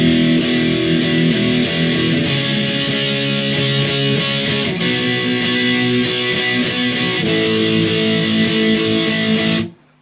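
Overdriven electric guitar plays the slow, simple verse of a song in steady all-downstroke chords, loud and continuous without voices, stopping abruptly near the end.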